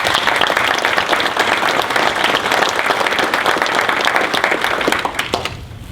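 Warm, steady applause from the audience at a school board meeting, a dense wash of many hands clapping together that tapers off in the final second.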